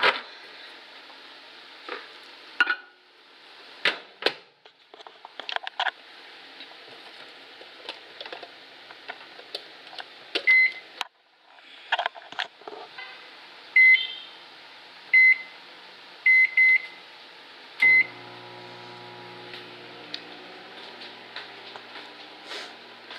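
A microwave oven reheats leftover sisig, a low steady hum inside a quiet room broken by button beeps, clicks and knocks of the door, and a run of beeps near the end.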